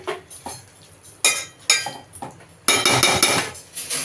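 Metal clinks and scrapes as a lid goes onto a pot of chicken curry, several sharp knocks and then a longer burst of rattling near the end, close and fairly loud.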